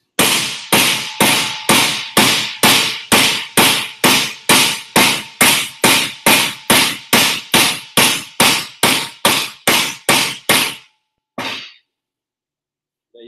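A hammer pounds flat sheet metal over a shot bag filled with BB or sand, about twenty sharp, evenly spaced blows in a loud steady rhythm before stopping, then one last hit.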